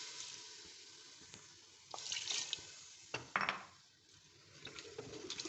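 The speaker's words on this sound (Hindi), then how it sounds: "ये मैंने 1 प्याली इसमें पानी डाला है।" Water poured from a cup into a cooking pot of bhuna gosht, with splashing pours and clinks of the vessel in short bursts, close and fairly quiet, with no talk.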